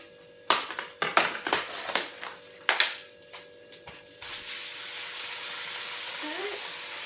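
Turkey mince dropped into a hot pan crackles with sharp clattering hits, then settles into a steady sizzle that carries on evenly, no voices heard.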